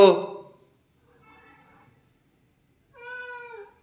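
A cat meows three times, a loud one, then a faint short one, then a longer drawn-out call, with quiet pauses between.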